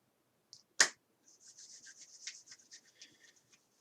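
One sharp hand clap, followed by a soft, steady swishing of palms rubbing and massaging over the body during a quiet qigong class, close and faint, with no talking.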